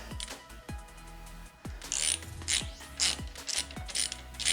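Ratcheting wrench loosening a bolt on the steering damper of a 2021 Kawasaki Ninja 400, a close series of quick metallic clicks in bursts with sharp knocks between them, no talking.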